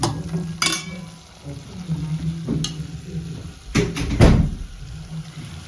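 Food sizzling steadily as it cooks in a pan at home, a close, continuous frying hiss with a few clattering knocks of utensils or cupboards over it.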